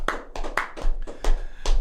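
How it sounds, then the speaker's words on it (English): Studio audience on a comedy talk show breaks into a short burst of clapping, sharp hand claps up close and loud, repeating in quick uneven bursts. "A round of applause for that woman, please."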